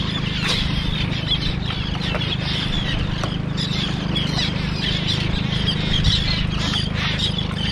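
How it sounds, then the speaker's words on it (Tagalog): A dense, loud chorus of seabirds squawks and chatters continuously at a rocky coastal fishing spot in Mindoro, calls overlapping over steady wind and surf noise. "Dami pa din ibon, dumami sila."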